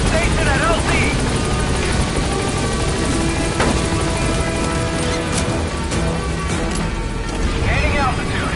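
The Pequod helicopter in Metal Gear Solid V flies in to a landing zone, its rotor beating loudly and constantly close by, with radio voices and occasional game effects layered over the din.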